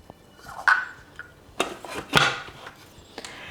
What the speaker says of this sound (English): So just going to pop in our butterfly whisk.